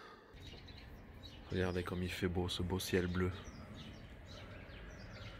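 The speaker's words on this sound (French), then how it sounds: "avec les oiseaux qu'on entend." Birds chirp faintly in a garden under a blue sky, with scattered thin tweets before and after a person speaks over them.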